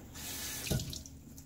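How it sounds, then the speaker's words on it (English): Tap water runs into a sink for a shave rinse, a steady close splashing stream lasting the whole short moment. "Do a full rinse now."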